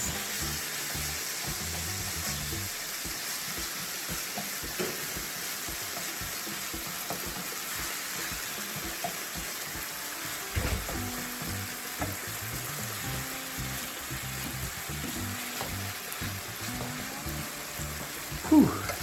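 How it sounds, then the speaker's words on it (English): Ground meat frying in sauce for sloppy joes, sizzling steadily while a utensil scrapes and breaks up the clumps in irregular stirring strokes, close and fairly loud, with no talking. "Just need to keep breaking up these meat clumps. And stirring all the sauce through."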